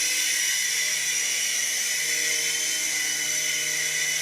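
A small XVB 2-channel infrared RC toy helicopter in flight gives off a steady, loud, high-pitched rotor and motor whine that stays constant and close throughout.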